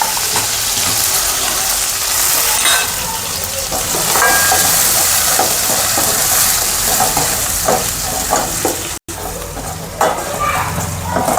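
Onions, garlic, cumin and chili powder sizzle loudly in hot oil in a pan, a close, continuous hiss with scattered stirring scrapes and a brief dropout near the end.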